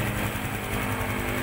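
Honda XRM 125 Fi motorcycle engine idling after a general overhaul, a low steady hum with even, continuous pulsing, moderately quiet and heard alone without speech.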